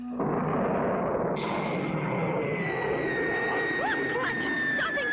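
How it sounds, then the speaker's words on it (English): A cartoon rocket blasts off with a steady roaring rush of thrust, joined partway through by a high whistling whine that wavers toward the end, loud and continuous with no talk. "Blast off!"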